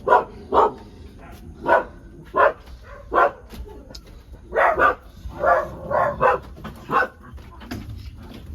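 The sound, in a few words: dogs barking at home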